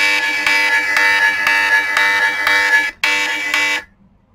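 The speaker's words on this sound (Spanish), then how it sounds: "Y la alarma suena bastante," A UMIDIGI Bison phone alarm, a loud, harsh electronic tone, blares steadily, briefly cuts out, resumes, then stops abruptly.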